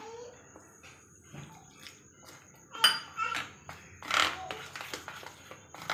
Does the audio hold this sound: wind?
no